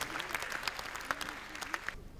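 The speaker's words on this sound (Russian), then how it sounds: "Ваши аплодисменты" Studio audience applauding at a KVN Higher League quarterfinal comedy show in Uzbekistan, a steady dense clapping wash that continues evenly and thins slightly at the very end.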